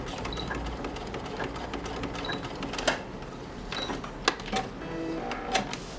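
Sewing machine stitching back over a seam on fabric for a wall-hung cloth planter, a steady close mechanical whir with a few sharp clicks and brief pauses.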